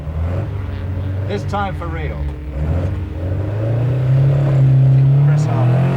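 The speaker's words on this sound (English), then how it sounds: "Yes, give it plenty of revs. Plenty of revs, and away we go." A 1974 vintage rally car's engine revs up and holds high, the drone rising and steadying near and loud beneath a voice giving instructions.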